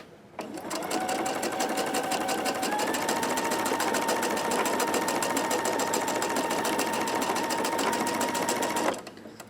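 A sewing machine runs steadily for about eight seconds, stitching strips of fabric for a Farmer's Wife quilt, with a fast even whir that starts and stops cleanly.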